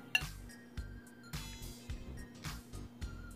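A spoon scoops cooked white rice from a pan, giving a series of soft metallic clinks and light scrapes in an irregular rhythm. The sounds are quiet and close, with no talking.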